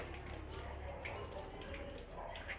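Water from a garden hose splashes steadily onto a yellowed car headlight during wet sanding, a continuous pouring and spattering at close range with no talk.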